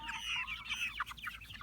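Nine-week-old ISA Brown and Plymouth Rock chickens, including young roosters, cluck and chirp in a steady, close-up run of short calls with no talk over them.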